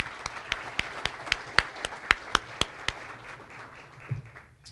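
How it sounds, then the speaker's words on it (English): Sparse, distinct hand claps ring out at a steady pace at a chamber of commerce luncheon, about a dozen sharp claps from a small group, fading near the end. "let's give Nick a round of applause for helping us out today"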